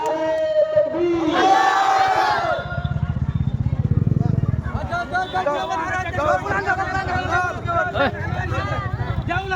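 A crowd at a mosque religious gathering in Assam shouts the takbir slogan in unison, a loud, sustained roar of many voices lasting a few seconds, followed by continued crowd voices and a speaker over a PA system.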